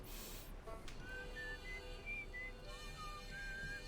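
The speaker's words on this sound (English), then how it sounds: "There's the Whistling Guy that's on the moon." Faint whistled melody picked up on a signal scope in a space exploration video game, thin sustained whistle notes drifting in a short tune over a steady background hum, with a brief burst of noise at the start.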